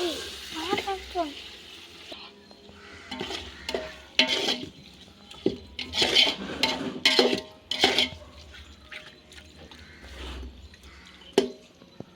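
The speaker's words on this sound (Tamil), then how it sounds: "இப்போ நல்லா மிக்ஸ் பண்ணணும்." Seeraga samba rice biryani with chicken is stirred in a cooking pot, giving bursts of scraping, clinking and soft sizzling while a person talks over it.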